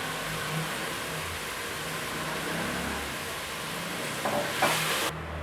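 Food fries in a pan with a steady, close sizzling hiss and occasional stirring, a brief louder burst of crackle near the end and no talking.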